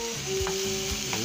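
Garlic and onions sauté in a hot pan for corned chicken sisig, a steady close sizzle with faint stirring scrapes and no talking.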